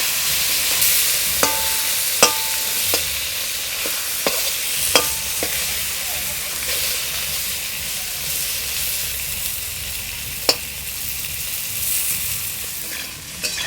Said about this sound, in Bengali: এটা আলুর সঙ্গে ভালো করে ভেজে নেব